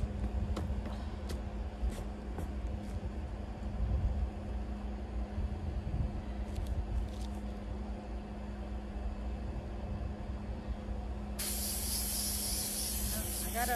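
Spray adhesive aimed at fabric for window shades, a soft hiss running under low room noise, then a sharp loud burst of spray near the end.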